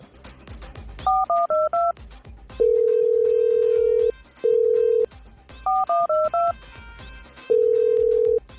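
A phone call tone plays through a handset: short bursts of stepped beeps followed by long steady tones, repeating twice in a loud, regular pattern as the call gets cut off.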